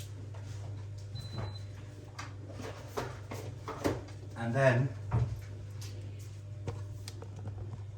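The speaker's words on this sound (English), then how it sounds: "put your milk back in the fridge" A refrigerator door swings open and shuts with a soft thud as milk goes back in while making a bowl of cereal; a voice talks over the brief clunks.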